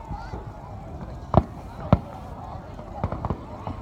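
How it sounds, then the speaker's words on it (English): Fourth of July fireworks bursting at a distance, a few sharp pops and a quick cluster of cracks with people talking throughout. "There's some fireworks over there."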